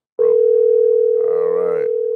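A steady telephone dial tone holds one continuous pitch for about two seconds, loud and close, with a brief voice-like murmur layered over it partway through.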